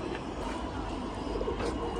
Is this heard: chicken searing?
no